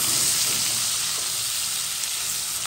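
Onions frying in a cooking pot for rougail morue, a steady dense sizzle that stays close and even throughout with no voices.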